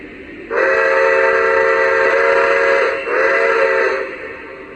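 A Lionel Vision Line Niagara 6013 model steam locomotive sounds its whistle through the tender speaker: a loud, steady multi-tone chime held for about two and a half seconds, briefly dipping, then a second shorter blast that fades out.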